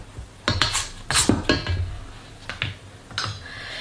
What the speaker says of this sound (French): Je viens un petit peu mélanger pour éviter que la levure entre en contact avec le sel.